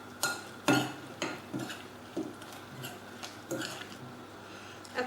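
Button mushrooms, about 250 grams, being stirred into marinade with a spoon clinking against a bowl: a few distinct knocks and scrapes spaced through the stretch, fairly quiet, with no talking.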